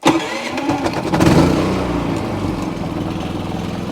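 Portable generator for a mobile detailing rig; a brief engine catch settles into a steady, moderate, fairly quiet running drone close by, with no talking.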